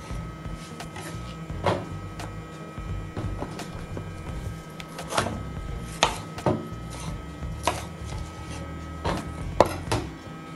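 A knife chopping zucchini, champignon mushrooms and bell pepper on a board, sharp irregular cuts spaced a second or so apart, close and distinct over a quiet kitchen background.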